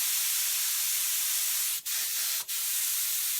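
An air sprayer mists color onto a leather car seat at low pressure, giving a steady, soft, airy hiss that runs continuously with two brief interruptions near the end, close and without talking.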